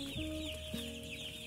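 Day-old chicks in a poultry brooder cluck and cheep softly and continuously, a faint, steady chorus of fowl calls with no talk.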